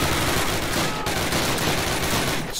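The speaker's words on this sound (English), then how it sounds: "Stop, stop shooting at me" Gunfire fills a battle in the 2003 Call of Duty video game, with dense, continuous bursts of shots and machine-gun fire sounding loud and close, and no talk over them.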